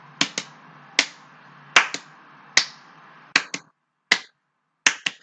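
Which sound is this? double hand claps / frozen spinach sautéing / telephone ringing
double hand claps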